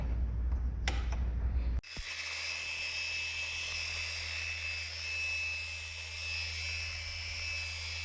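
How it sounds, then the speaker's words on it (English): A 320-grit sandpaper sanding a glossy epoxy floor gives a steady, close whirring grind that starts abruptly after a brief louder burst and then runs evenly without pause. "I'm using a 320 sandpaper for this, and if you look, you can see where it's getting dull as I sand."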